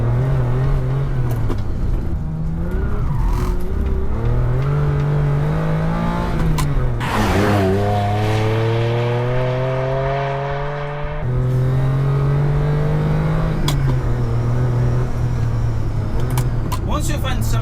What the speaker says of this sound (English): Once you find some straight line, you'll truly enjoy this V12.